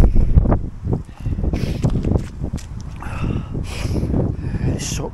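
Wind gusts buffet the microphone on a freezing day outdoors, with loud, uneven rumbling bursts and a few scuffing footsteps.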